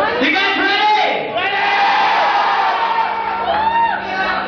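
A crowd at a marriage proposal cheers and whoops loudly and continuously, with shouts and high voices rising above a dense roar of people close by.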